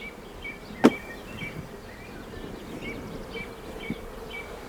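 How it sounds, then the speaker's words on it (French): Steady low buzzing of honeybees being shaken into a hive fills the clip, with a sharp knock early on and a smaller tap near the end. "Les abeilles qui restent, on va les secouer là-dedans,"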